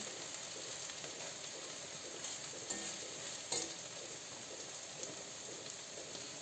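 Potato pancakes (terchaniki) frying in oil in a pan, a steady, dense sizzle and crackle throughout with occasional small pops and scrapes, close and alone.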